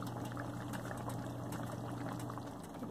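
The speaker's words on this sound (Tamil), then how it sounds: "நல்லா கொதிக்க ஆரம்பிச்சிடுச்சு." Egg curry gravy (muttai kulambu) boils in a pan on the stove with a steady, close bubbling and simmering hiss, alone with no talking.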